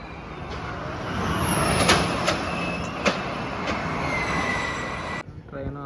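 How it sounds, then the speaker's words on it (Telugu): A train runs along an elevated track, its rumble and rhythmic wheel clatter close and steady, with sharp metallic squeals ringing out, before it cuts off and a voice is briefly heard. "ట్రైన్ అంత పైనుంచి వస్తుంది."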